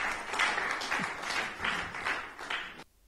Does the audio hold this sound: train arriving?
no